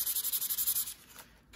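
Sanding paint down on an octopus specimen's frame, a quick run of about a dozen rhythmic, raspy strokes close up, then a softer scrape fading out.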